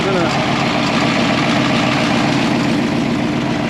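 A Ford Crown Victoria engine idles steadily while warming up, a loud, even, low rumble throughout with a faint voice underneath.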